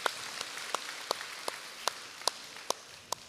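Church congregation clapping for God during a sermon: a handful of sharp, separate claps, spaced roughly every half second over a soft, rain-like background wash. The clapping is fairly close but thin rather than a full ovation.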